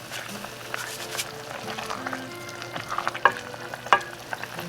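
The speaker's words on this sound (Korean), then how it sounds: "끓으니까 여기다가 아까 썰어둔 야채 넣어줍니다." Chopped vegetables go into cheonggukjang stew boiling in a pot at home, giving a soft clatter and splash over a steady bubbling simmer, with a few sharper knocks near the end.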